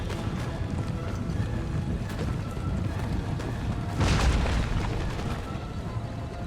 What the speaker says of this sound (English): Punching those cannons from the wall straight down.